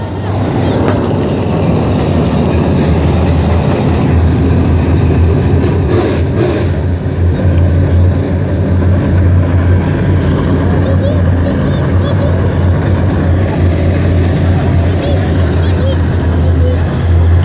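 Race cars roar at Baton Rouge Raceway as a loud, continuous engine drone fills the air for the whole stretch, with a voice talking underneath.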